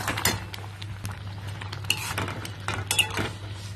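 A spoon scrapes and clinks against a pot while red lentil dal with jute greens is stirred, giving irregular metallic knocks and scrapes over a low steady hum, close and moderately loud, with no talking.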